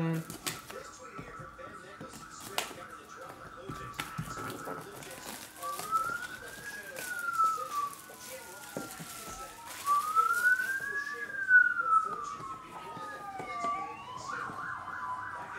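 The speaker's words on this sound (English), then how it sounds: "A lot of sirens today." A siren wails, sweeping up and down in long rising and falling tones at a moderate distance, with faint voices and street noise underneath.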